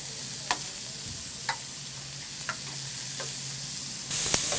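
Marinated shrimp sizzle steadily on a flat top grill, a constant close hiss broken by a few brief scrapes and taps, with the sizzle swelling louder near the end.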